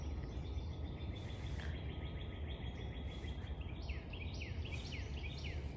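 A wren sings its three-syllable tea kettle song in woods beside a community garden. The repeated chirping phrases sound faint and distant beneath steady background noise, clearest toward the end.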